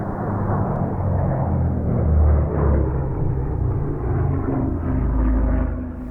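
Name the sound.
P-38 Lightning and P-51 Mustang 12-cylinder aircraft engines flying aerobatics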